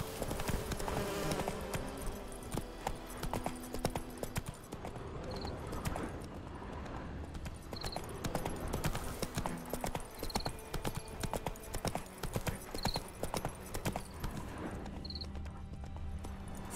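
Horse hooves clip-clop at a steady galloping rhythm in the video game The Witcher 3, loud and continuous beneath soft game ambience for the whole stretch, with no talk over it.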